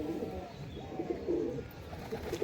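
A load-carrying high-flyer pigeon, a competition bird, coos in low repeated throaty phrases, faint and close, with no voices over it.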